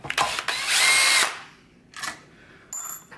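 Power drill backing screws out of a KitchenAid stand mixer housing, with a few short bursts followed by one long whirring run, then a brief rev and a final short spin, close and loud with no talking.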